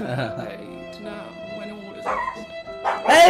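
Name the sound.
dog barking in the video game Banishers: Ghosts of New Eden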